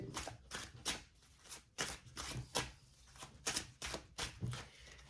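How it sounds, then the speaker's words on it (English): Cards are shuffled in quick repeated riffles, a series of crisp fluttering bursts with brief pauses between, close and fairly quiet. "I don't want to shuffle anymore."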